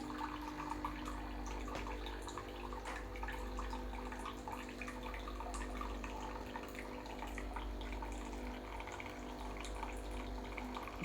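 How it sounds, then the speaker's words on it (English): A Breville Barista Touch BES880 espresso machine dispenses hot water in a steady close-up stream, with soft trickling and dripping over a low mechanical hum. "to make this into a long black, you just add hot water. So as much as you want, just press the hot water button."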